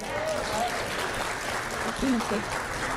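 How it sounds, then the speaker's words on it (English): An audience at a coaching and training event claps in a steady, dense patter that fills the short stretch, with faint voices under it. "Give them a round of applause."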